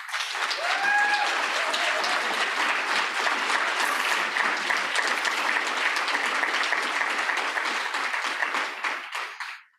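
A large crowd at a conference awards ceremony applauds loudly and continuously, the clapping sustained before fading out at the end.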